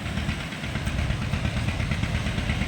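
A tractor engine idles nearby while waiting to shell groundnuts, with a steady low, throbbing rumble and rapid rhythmic knocking that holds constant throughout.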